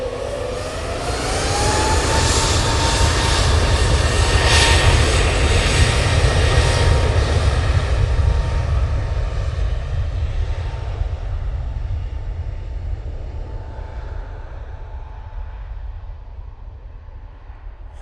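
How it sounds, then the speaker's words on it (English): A partly liveried airliner bound for Madeira Funchal takes off from Manchester Airport, its engines a loud sustained roar with a rising whine that slowly fades and recedes into the distance. "they are off to Madeira Funchal in this not fully liveried up aircraft."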